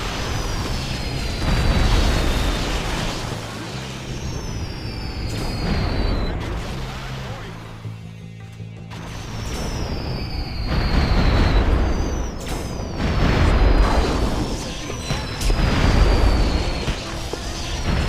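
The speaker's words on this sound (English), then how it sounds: "explosions in the volcano" Volcano explosions in Destroy All Humans! Big Willy Unleashed on Wii: deep booming blasts roll in repeatedly, rumbling loudly in waves, with a brief quieter lull midway and whistling tones streaking above.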